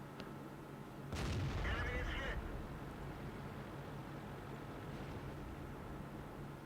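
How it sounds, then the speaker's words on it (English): A tank cannon fires once in World of Tanks, a heavy booming blast with a long rumbling tail that fades under steady background battle ambience, with a voice talking. "I could literally fire and do damage almost every time the gun was loaded"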